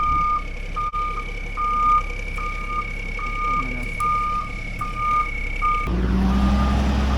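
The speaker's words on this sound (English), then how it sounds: "I have a truck here, you know, with some dumps" A dump truck backing up in a backyard land backfill job sounds a steady series of evenly spaced reversing beeps over its engine rumble, with the engine revving louder near the end.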